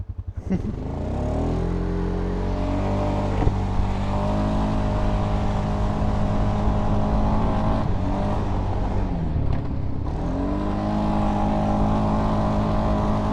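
Polaris Sportsman 570 ATV on a trail, its engine droning and revving hard under throttle with pitch rising and falling as it pulls its weight over bumps, close and steady throughout.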